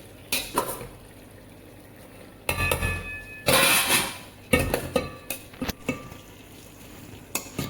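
Partly cooked basmati rice being tipped into chicken gravy in a pan, with scraping stirs, clattering utensil hits and soft bubbling in short loud bursts between quieter stretches.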